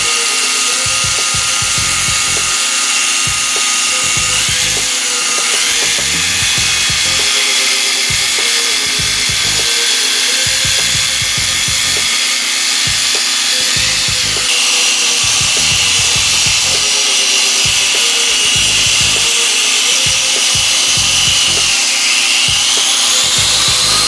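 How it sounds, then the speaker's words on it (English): G-Nor orbital polisher with a buffing pad and medium grit compound working a Telecaster guitar body, a steady close buzzing whir with rhythmic rubbing pulses throughout, no voices. "Using our new G-Nor orbital polisher and a buffing pad, we started polishing first with a medium grit compound."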